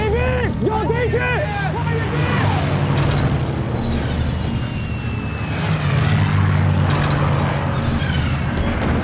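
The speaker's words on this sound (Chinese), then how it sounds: "有敌机！" Enemy aircraft fly overhead in a war film battle scene, their propeller drone a loud, steady roar that fills the whole stretch, mixed with shouting voices and dense battle noise.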